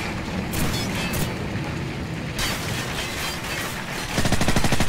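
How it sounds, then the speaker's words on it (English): Dense gunfire and a flashbang blast in Call of Duty 4: Modern Warfare (2007), Crew Expendable mission: loud, continuous bursts of rapid shots with sharp cracks, growing heavier toward the end. "Flashbang out."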